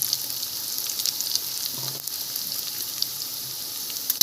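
Green chillies frying in hot oil with reddened onions for masale bhat give a steady, close, continuous sizzling hiss, with no talking.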